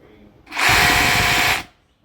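A DeWalt hammer drill runs in hammer drilling mode for about a second, a loud, close, harsh buzzing whir that starts and stops abruptly.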